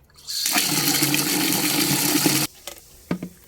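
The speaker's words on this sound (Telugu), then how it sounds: "ఇలా బకెట్ ఆఫ్ అయినప్పుడల్లా ట్యాప్ తిప్పేస్తూ ఇచ్చేయడమే" Water gushing from a tap into a bucket for watering plants: a loud, close, steady rush lasting about two seconds that cuts off abruptly, followed by a few light knocks and drips.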